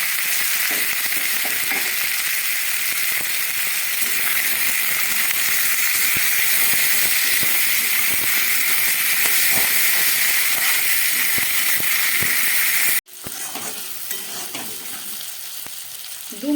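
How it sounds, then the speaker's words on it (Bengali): Pumpkin, potato, green chilli and onion fry in a pan, giving a continuous loud sizzle with faint stirring scrapes that runs unbroken, then cuts off abruptly near the end. "কুমড়ো আলু লঙ্কা দিয়ে পেঁয়াজ দিয়ে ভালো করে ভাজা হয়ে গেল"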